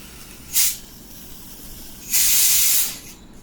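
Gas escaping from a WE Glock 18c Gen 4 airsoft pistol: two sharp, close hisses, a short burst followed by a longer, steady spray of about a second, with no talking.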